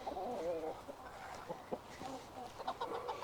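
Silver Sebright chickens cluck softly in short, scattered bursts, a few birds murmuring and chattering at a low, fairly distant level on a woodland homestead.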